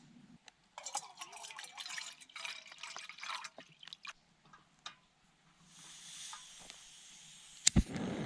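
Water poured into a pouch of dehydrated dinner at a backcountry campsite in the Dolly Sods Wilderness, West Virginia, with a brief trickle and some rustling and clinking. A loud splash comes near the end.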